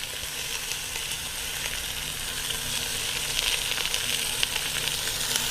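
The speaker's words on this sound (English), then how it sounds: "now we're going to add some onions" Onions added to a hot pan beside a browned roast, a loud continuous sizzle and hiss that builds slightly, with faint stirring.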